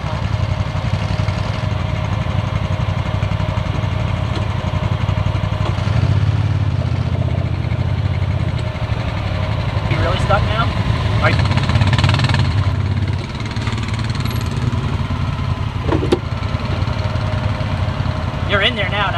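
Honda Pioneer 1000-5 side-by-side engine on a sandstone forest trail in Kisatchie National Forest, a steady low idle and rumble with occasional revving, close by, while people talk over it.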